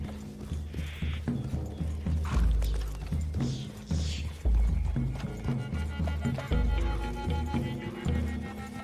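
Steady clip-clop of horse hooves at a trot through woods in Red Dead Redemption 2, with occasional thuds and background game ambience, no voices.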